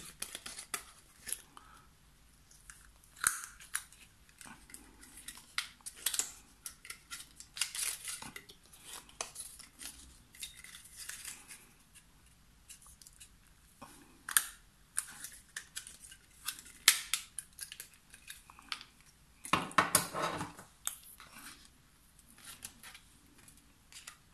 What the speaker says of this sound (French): Avec ma perfo œillet, je vais venir me découper 2 œillets.